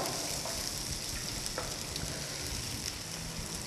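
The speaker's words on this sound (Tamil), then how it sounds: "அந்த ஆனியன்ஸையும் குடை மிளகாய் கேப்சிகத்தையும் ஆட் பண்ணி லைட்டா இந்த மசாலாவோடே கொஞ்சம் லைட்டா வதக்கிக்கலாங்க" Onions and capsicum sauté with masala in a pan for Chinese dragon chicken, giving a close, steady, even sizzle throughout with a few faint stirring taps and no voices.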